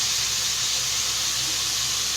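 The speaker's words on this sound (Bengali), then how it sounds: "গরম পানি দিয়ে দিচ্ছি" Hot water poured into a pan of frying beef liver with garam masala, setting off a loud, steady steam hiss that stays constant and close throughout.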